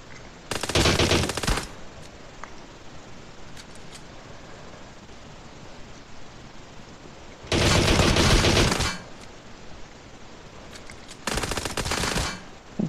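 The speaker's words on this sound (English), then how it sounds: "This thing also shoots really fast, which I really like." Rapid automatic gunfire in the mobile battle royale game PUBG Mobile comes in three loud sustained bursts, the middle one longest, separated by stretches of low ambient hiss.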